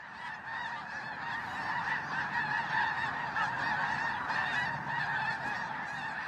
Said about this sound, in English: These are snow geese on their annual migration from the Gulf of Mexico up into Canada.